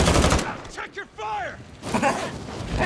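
Call of Duty gunfire in Plunder mode, with rapid automatic bursts at the start and again toward the end, separated by a brief stretch of talking.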